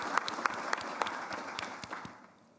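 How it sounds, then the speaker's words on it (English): Applause from a keynote audience at a conference, greeting event volunteers: a short spell of scattered clapping with a few louder individual claps standing out, tapering off toward the end. "Please give them a round of applause."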